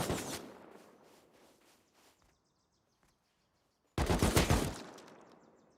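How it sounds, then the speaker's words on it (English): Two loud bursts of rapid SMG fire from a video game, the first fading out over about two seconds, then a short silence before a second close, sharp volley rattles off and trails away. "The only time I ever get any kills with that SMG"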